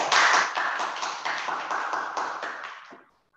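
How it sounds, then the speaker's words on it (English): An audience at a World Tourism Day singing contest gives the contestants a round of applause: loud, close clapping that stays steady, then fades out and stops just before the end. "Okay, so I believe all the contestants, they deserve a round of applause."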